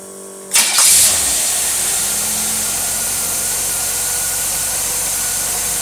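A 1972 Rochester Quadrajet carburetor from a Pontiac GTO 455 High Output fires up on a test engine, a loud start followed by a steady, close idle that holds for several seconds with no talking.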